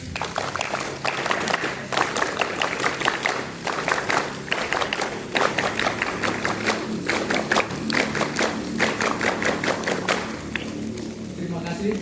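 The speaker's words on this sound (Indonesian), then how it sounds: "Tepuk pramuka 3 kali." A scout troop at a school camp night ceremony claps the rhythmic scout clap three times, dense rounds of group clapping with short pauses between them and no speech over it.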